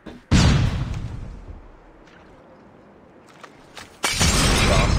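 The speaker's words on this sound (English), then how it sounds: "Flashbang!" A flashbang grenade goes off in a Call of Duty match, a sharp loud blast that rings out and fades, with faint clatter before a second loud burst of noise near the end.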